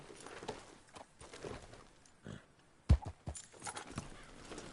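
Horse hooves clip-clop in an irregular rhythm at moderate distance in the video game Red Dead Redemption, with a sharp thud midway and soft rustling between steps.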